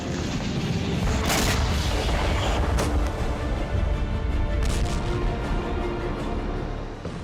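Cruise missiles fired one after another from a Russian navy warship in the Black Sea near Sevastopol port, eight in succession: a loud, continuous roaring rumble with heavy booming bursts, close and filling the whole stretch, with no voices.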